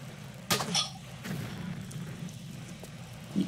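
An explosion goes off in Tomb Raider The Last Revelation, one sharp boom followed by a short rumbling tail over a steady low game ambience.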